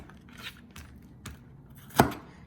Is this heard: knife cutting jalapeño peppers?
yes